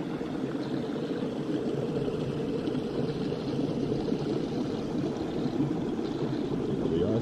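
Creek water rushing steadily in icy Burden Falls Wilderness near the base of a waterfall, a continuous broadband wash that stays even and fairly close throughout with no voices.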